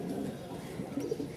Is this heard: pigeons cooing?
yes